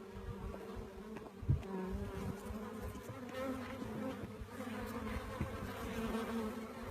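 Honeybees at a hive entrance carrying pollen loads back in, a dense, steady buzzing of many insects close by, with occasional louder fly-by hums and no speech.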